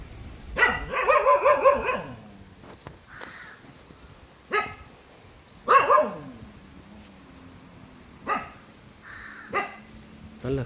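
A dog barks in short separate bursts during a hunt in a rural Tamil area of Puttalam, Sri Lanka, a few loud near barks spread irregularly over quiet gaps, with no talk.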